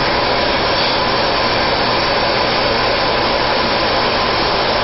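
A Miele canister vacuum cleaner runs with a loud, steady, continuous whooshing roar that never changes for the whole stretch, with no voices over it.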